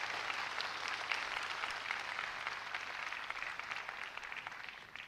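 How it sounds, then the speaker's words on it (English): Big round of audience applause for a guest speaker at a campus event in Hyderabad, dense steady clapping from a large crowd that fades near the close. "give a big round of applause to our guest today"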